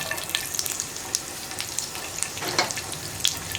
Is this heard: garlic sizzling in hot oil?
yes